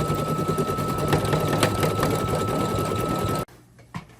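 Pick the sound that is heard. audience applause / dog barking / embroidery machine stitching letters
embroidery machine stitching letters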